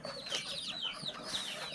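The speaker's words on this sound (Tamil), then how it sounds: "இவ்வளோ ஆக்டிவாக இருக்குது சேவல்" Fantail rooster clucking in a series of short, bright, repeated calls with faint flapping or rustling, fairly close against a steady background hiss.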